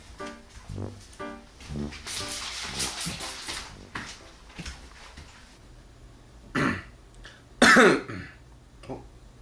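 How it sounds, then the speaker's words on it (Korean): A few short, sharp coughs and throat-clearing bursts, fairly close, with quieter murmuring and rustling in between. "기침하는 거 봐라."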